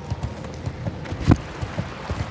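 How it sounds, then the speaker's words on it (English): Steady clip-clop of a stable boy's horse walking in a video game, with evenly spaced hoof falls over a soft ambient bed and one slightly louder step midway. "Stable boy taking a horse."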